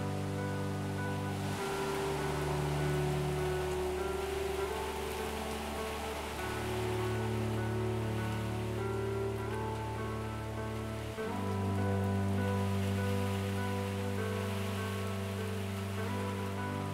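Steady rain in a forest setting in the Nahuelbuta mountain range, a continuous dense hiss of falling drops with a low rumbling undertone, even and unbroken throughout, with no voices.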